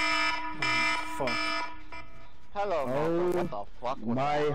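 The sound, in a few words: alarm going off during a stream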